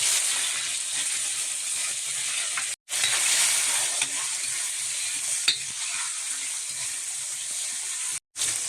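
A steady, close sizzle as garlic, onion and tomato sauté in a hot pan, with stirring scrapes throughout and two brief dropouts.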